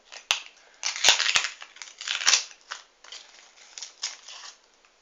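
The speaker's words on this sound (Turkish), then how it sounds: "Hemen öbür kartımızı açalım." Foil trading card packs are torn open and handled up close, giving a run of crinkling, tearing and crackling bursts with a few sharp clicks, fairly quiet and with no talk.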